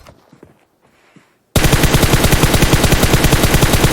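Sustained rapid automatic gunfire from a video game match in a pro league esports broadcast, beginning abruptly after a second and a half of near silence and continuing loud and dense as one steady burst.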